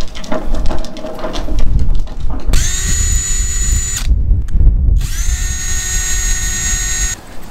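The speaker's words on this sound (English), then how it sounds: "Then you want to drill right into the middle around here." A loud power drill whines in two long sustained runs, with a short pause between them and rough grinding noise before the first.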